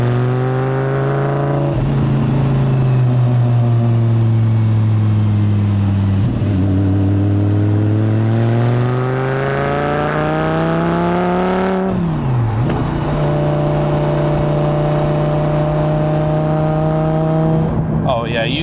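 A Lamborghini Gallardo fitted with high-flow sports cats and a Quicksilver exhaust accelerates hard from inside the car, its engine note climbing through several rising pulls with brief dips at gear changes, loud and continuous.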